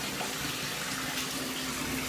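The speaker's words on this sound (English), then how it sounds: "Alright, I'm gonna stop the water now" A tap pours water steadily into an ice bath, giving a continuous, close, even rushing splash with no pauses.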